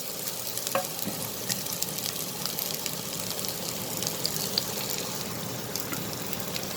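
One tablespoon of hot oil with onion and chillies sautéing for an aloo samosa filling gives a steady, even sizzle and crackle that runs unbroken from start to finish, with no talking.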